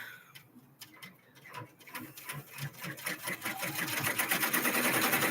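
An embroidery machine sews a satin stitch, starting slowly and building to a steady rapid needle rattle that grows louder and faster, with a bird cooing faintly in the background.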